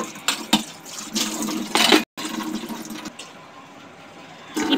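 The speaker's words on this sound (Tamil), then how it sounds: "இப்போ நான் சிங்க்கு டைல்ஸையும் லைட்டாக வாஷ் பண்ணி விட்டுக்கிறேன்" Water splashing from a tap while a kitchen sink and its tiles are washed, in bursts of gushing and spraying with brief pauses, close and fairly loud.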